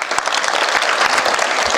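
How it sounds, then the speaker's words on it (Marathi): A large audience claps loudly and continuously at a kirtan-style speech during a Shiv Jayanti event, a dense wash of applause with no voices over it. "जोर जोरानं टाळ्या जिथं आवडेल तिथं आल्या पाहिजे"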